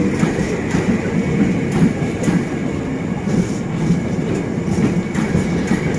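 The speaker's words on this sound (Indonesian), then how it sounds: "KRL ini masuk Stabling" Steady low rumble and rattle of an electric commuter train rolling slowly into a storage siding at night, with faint rhythmic clicks of wheels over track joints, continuous and close.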